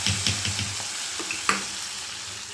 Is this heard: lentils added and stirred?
yes